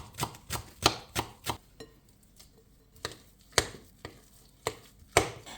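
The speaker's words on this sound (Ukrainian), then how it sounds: "Дрібненько нарізаємо свіженьку зелену цибульку" Knife chopping fresh green onion finely on a board: a run of crisp, close, irregular cuts, pausing briefly midway before more sharp strokes resume, with no talking.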